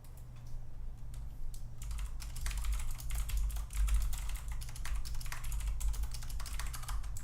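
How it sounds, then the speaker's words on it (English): Steady, rapid clatter of keys on a computer keyboard, close and continuous, with a low hum underneath and no voices. "I hope my keyboard's not too loud in the back."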